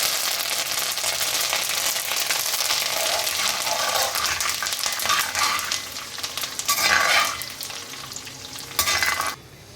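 Dry red chillies and spices fry in a pan with a dense, steady crackling sizzle and stirring scrapes throughout, swelling into louder bursts near the end before cutting off abruptly.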